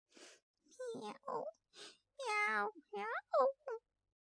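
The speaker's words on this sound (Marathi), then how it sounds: "मांजर रडत होती" A cat meows and wails in a run of drawn-out, crying calls, some rising and wavering, with short pauses between them.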